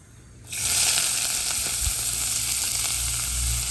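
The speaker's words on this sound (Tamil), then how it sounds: "வெங்காயம் போட போகிறோம்." Onions, green chilli and ginger drop into hot oil, and a loud, steady sizzle bursts up after a short quiet start, then hisses on close and continuous to the end.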